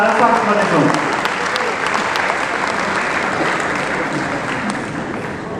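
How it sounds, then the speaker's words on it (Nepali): Enthusiastic applause from a seated audience at a golden jubilee celebration, welcoming writer and translator Kamal Adhikari to the stage; dense, steady clapping fills the hall at even loudness throughout, with faint voices mixed into the crowd. "हामी उहाँहरू सबैजनालाई जोरदार ताली बजाएर स्वागत गर्नेछौँ"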